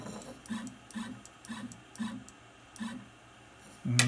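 A CNC carving machine set up for carving jogs its bit into position toward a zero point, giving a series of short, evenly spaced whirring motor bursts with pauses between them, then a louder start near the end; no talking.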